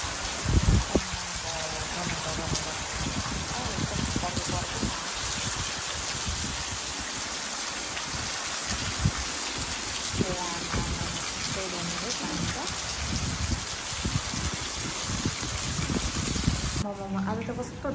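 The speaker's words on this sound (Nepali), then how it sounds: "आज त कस्तो डेन्जर पानी पर्यो यार." Heavy downpour pounding steadily on outdoor surfaces, a dense continuous roar of rain with patters and splashes, while a person talks over it.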